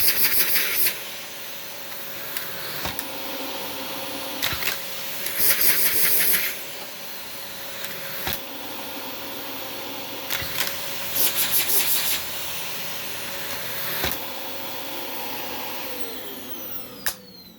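A Dyson DC25 upright vacuum cleaner runs in a living room with a steady motor whine and airflow hiss, punctuated by repeated bursts of higher hissing and clunks as the wand is handled.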